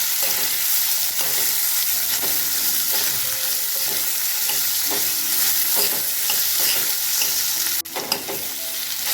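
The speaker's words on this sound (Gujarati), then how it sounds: "આપણા જે સુધારેલા બટેટા અને મરચાં છે એને આપણે આ રીતે વઘાર કરી દઈશું હવે આપણે સરસ મિક્સ આપી દઈએ" Chopped potatoes and chillies sizzling loudly in hot oil tempering with a pinch of turmeric, stirred with repeated scraping strokes over continuous close frying crackle, with a sharp clatter near the end.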